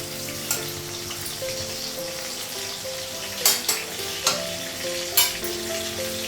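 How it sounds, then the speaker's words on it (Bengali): Potatoes fry in a hot wok with a steady bright sizzle, broken by several sharp scraping clatters as they are stirred, close and alone without talk. "কড়াইয়ের মধ্যে আলু লাগিয়ে দিলাম"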